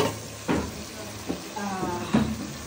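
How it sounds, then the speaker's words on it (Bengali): Spices sauté in a pan for mustard hilsa with a faint, steady sizzle, broken by a few sharp clatters of stirring or utensils and some background noise. "আর এখানে সরিষা ইলিশের জন্য মশলা কষাচ্ছি।"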